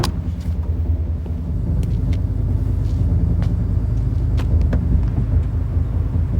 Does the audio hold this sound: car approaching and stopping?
yes